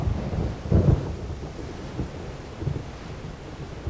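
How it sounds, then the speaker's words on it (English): Thunderstorm at sea with a surfaced U-boat in the naval submarine game Silent Hunter 3: a low rumble of thunder swells near the start over constant rolling waves, wind and rain noise. "The weather is poor, the storm is approaching"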